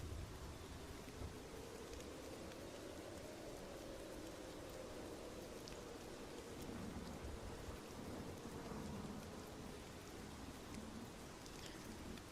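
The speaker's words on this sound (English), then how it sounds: "It's just rain noise." Steady rain pouring down over a quiet scene, a continuous broadband hiss with a low rumbling undertone running throughout, no voices present.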